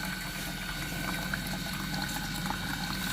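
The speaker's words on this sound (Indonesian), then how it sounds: "Di sini ini ada valve ya, ini valve-nya kecil, dibuka. Nah, kita lihat di sini akan ada gelembung-gelembung keluar." Water gurgles and bubbles steadily out of a small opened drain valve on an Edibon pipe friction test apparatus, a continuous close, even bubbling wash with no talk over it.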